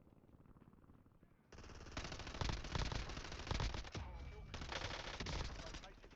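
Video game gunfire breaks out after a quiet opening, with rapid automatic bursts and overlapping shots continuing loudly to the end, and voices faint beneath.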